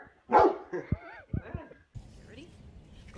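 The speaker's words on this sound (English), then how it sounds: "Can you bark?" A dog barking on command during trick training, a few short sharp barks and yips up close, mixed with a person speaking briefly between them.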